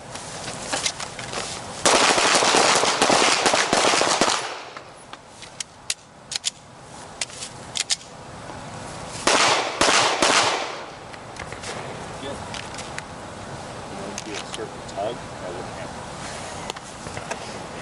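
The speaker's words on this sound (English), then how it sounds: "3 to 5 rounds to the high center chest." Handgun shots fired at a target during armed protective training, sharp cracks in quick bursts over several seconds amid outdoor range noise, with voices calling out between volleys.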